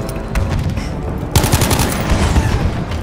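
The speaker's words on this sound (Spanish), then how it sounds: "No, dos explosiones." Loud rapid gunfire with booming explosions from Battlefield V's Iwo Jima battle, including C4 and grenades, a dense burst of shots and blasts that intensifies midway, game-like and continuous.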